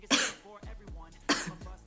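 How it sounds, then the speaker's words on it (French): Two bursts about a second apart, each a forceful sneeze-like blast that trails into a cough, close and fairly loud. "C'était un mélange d'éternuement et de... Et j'ai toussé en même temps"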